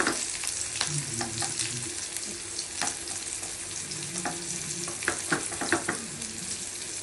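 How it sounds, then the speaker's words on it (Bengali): Prawns frying in a pan with a continuous crackling sizzle close by, broken by intermittent spatula scrapes and taps against the metal. "চিংড়ি মাছ ভেজে নিচ্ছি।"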